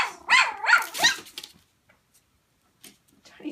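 A litter of seven-week-old puppies yaps and growls in a quick, loud, close burst of barking lasting about a second and a half, then falls almost silent with only a faint rustle near the end.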